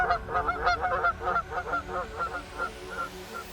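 Flock of geese honking in a rapid, overlapping chorus, loud and close at first, then thinning toward the end, set against a low outdoor rumble.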